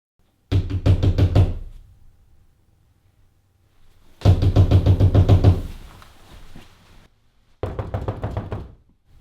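Knocking on a door in the Black Lagoon anime: three loud bursts of rapid knocks, each a quick run of about five raps, separated by pauses, close and clear.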